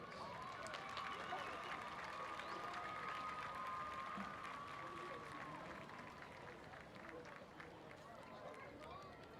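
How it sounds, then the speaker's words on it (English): Crowd applause at a high school varsity football game, a broad, steady wash of clapping and cheering in the stands that slowly fades, with a loud sustained whistle-like tone early on and announcer talk around it. "please show your sportsmanship by giving the GSL delegates a big round of applause"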